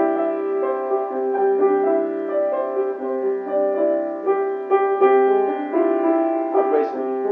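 A piano plays a slow, gentle melody over sustained chords in the Lydian mode starting on C, notes ringing with a soft, bittersweet feel and steady moderate loudness throughout.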